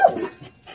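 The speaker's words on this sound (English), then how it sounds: "That's a crazy puppy, huh?" A puppy pants and snuffles close by in a short, lively burst that fades after the first moments, with no talking.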